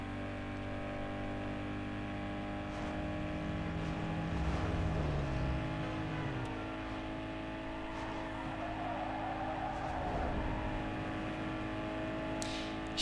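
Peugeot car driving in Need for Speed Underground 2, a steady droning engine hum that swells slightly mid-drive, continuous and fairly close with no voices.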